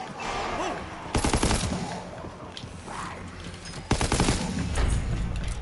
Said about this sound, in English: I'm hip firing. Oh my. STG's a perfect weapon for that.